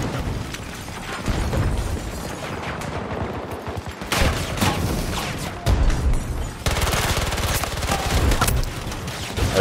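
Gunfire and grenade blasts in the video game Battlefield 2042 make a dense, continuous stretch of rapid shots and booming explosions, with louder bursts partway through and no voices heard.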